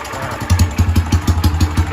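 Honda Sonic 125 motorcycle with a stock engine idling close up, a steady low chugging pulse with a faint ticking cam noise riding on top, running quietly and evenly with no talk.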